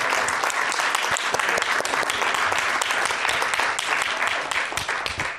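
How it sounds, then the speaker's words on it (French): Sustained applause from a conference audience at a regional workshop on preventing addiction in the workplace, dense and steady clapping throughout with no pauses, fairly loud and close. "Mathilde, et puis merci on l'applaudit vraiment."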